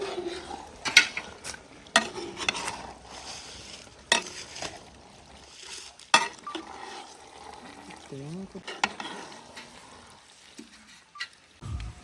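Pork roast with curry leaves being stirred in a pan in a home kitchen, with intermittent scraping and clinking of a utensil against metal, gentle frying beneath, and bursts of speech between strokes.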